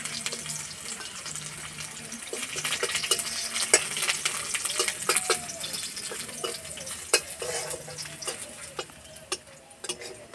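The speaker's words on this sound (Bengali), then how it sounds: "রসুন ভাজা হয়ে গেছে" Crushed garlic and dried red chillies fry in mustard oil in a pan, making a light continuous sizzle sprinkled with sharp ticking pops and clinks of stirring.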